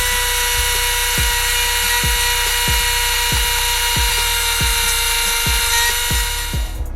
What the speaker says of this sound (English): the modification in the gearbox we have to do is we have to Dremel this bar out